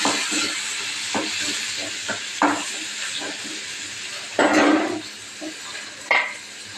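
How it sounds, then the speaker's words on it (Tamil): Onions sizzle steadily in a hot pan, punctuated by scraping stirs and clinks of a utensil against the pan. "வெங்காயத்தை போட்டு வதக்கிறேன்"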